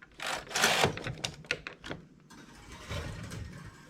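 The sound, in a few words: knitting machine carriage knitting a row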